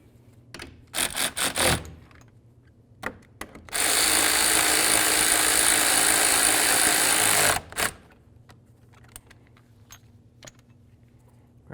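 A ratchet snugs up the mounting nuts on the driver-side mirror of a 2017-18 Ford F350, a few short clicking bursts followed by a steady four-second run of rapid ratcheting, close by.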